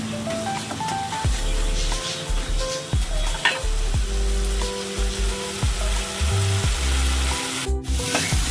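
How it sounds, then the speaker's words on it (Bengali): Ginger paste sautés in a pan for mutton kasa, a continuous close sizzle and frying hiss under a repeating low tonal hum that starts and stops in steps, with a sharp bump near the end. "দিয়ে দিলাম আদা বাটা পরিমাণ মতো। এবার এটাকে ভালো করে কষিয়ে নেব।"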